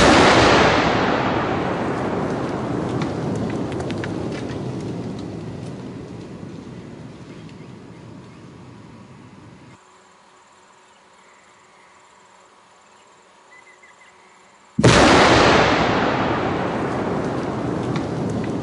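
Rock blast from 20 drilled holes, set to clear a road culvert on Britannia Creek Road: a huge close boom rolls into a long decaying rumble that fades toward quiet, then a second sharp loud burst returns with fresh roaring debris and echo.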